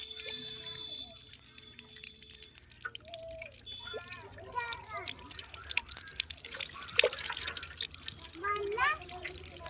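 Water runs from a tap into water balloons being filled for Holi, giving splashy trickling and gurgles that grow stronger over time. Voices talk alongside the water.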